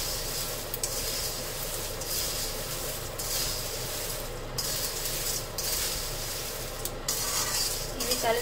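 Stirring and mixing a snack mixture in a pan, a continuous close scraping and rustling with faint sizzle, steady over several seconds with brief pauses and no speech.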